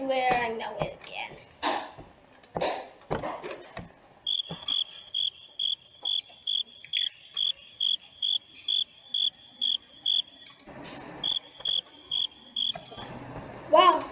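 Crickets chirping in a long, steady train of evenly spaced pulses, clear and moderately loud with a short pause partway through, preceded and followed by soft whispered talk and rustling.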